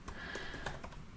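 Typing on a computer keyboard into a terminal, a handful of quiet, crisp key clicks in an irregular rhythm, close and soft, heard alone.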